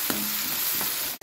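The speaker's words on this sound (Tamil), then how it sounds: "இதை சேர்த்து நல்லா கலந்து விட்டு பச்சை வாசனை போகிற அளவுக்கு வதக்கி விட்டுக்கலாங்க" Onions frying in a pan with ginger garlic paste while being stirred for potato masala curry, a steady close sizzle with a couple of faint stirring scrapes and no talk.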